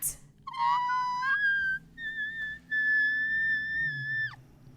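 A singer's very high whistle note, a thin pure tone sliding up and then held steadily in two long sustained stretches with a brief break, clear and alone without talk.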